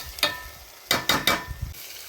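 Fried onions in a pan as tomato goes in, a few short bursts of sizzling and stirring clatter separated by quiet gaps, fairly faint and close.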